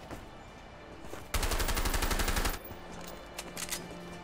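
Rapid automatic gunfire in A Way Out, a loud sustained burst of about a second followed by scattered fainter shots and ambient noise.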